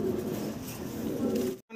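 A breeding pair of Andalusian-coloured pigeons gives soft, low, continuous cooing close by. Faint murmuring sits underneath, and the sound cuts off abruptly at the end.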